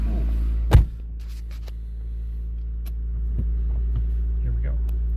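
An old Honda car creeps into a workshop with a low, steady engine rumble, a sharp knock early on and faint voices in the background.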